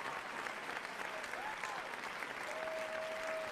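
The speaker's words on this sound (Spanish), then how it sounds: "Le damos también un gran aplauso" Steady, dense applause from an audience at a business awards ceremony for young professionals in Uruguay, with many hands clapping continuously throughout at an even, moderate level.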